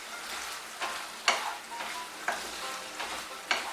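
Boiled drumsticks and potatoes stirred and fried in a pan, with a continuous sizzle broken by regular scraping strokes of a spatula roughly every second, close and clear, with no talking.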